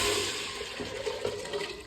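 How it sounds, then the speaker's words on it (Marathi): Water pours into a pressure cooker with a steady rushing splash, close and moderately loud, easing slightly in volume over two seconds. "आता हे पाणी मी असंच कुकरमध्ये टाकणार आहे."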